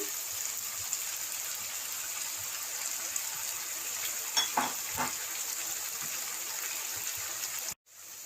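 Chicken and vegetables frying in a pan for chicken macaroni as soy sauce goes in, a steady close hiss of sizzling throughout with a couple of brief stirring clatters near the end and no talk.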